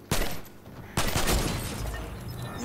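Two sharp, loud gunshots crack in a first-person video game, one right at the start and a second about a second later, each followed by a decaying rumble and scattered background game noise.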